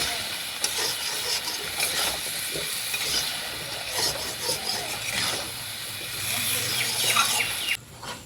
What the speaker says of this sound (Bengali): এখন সবজিটাকে নুন দেওয়ার পরে ভালোভাবে কষিয়ে নেব